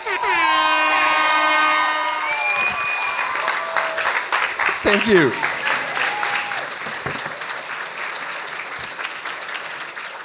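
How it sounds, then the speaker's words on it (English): Audience applause at a science slam event, dense clapping that rises loudly over a fading horn-like tone, with a brief spoken thanks partway through. "Big applause for June."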